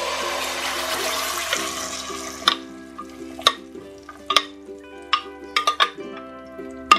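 Beans fried with blended salsa in hot oil in a saucepan: a sizzle fades after a couple of seconds, then sharp spoon or utensil clinks strike the pan several times in irregular succession, no voices.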